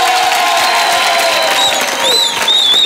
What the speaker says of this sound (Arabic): نحب تصفيقة كبيرة على جمهورنا العزيز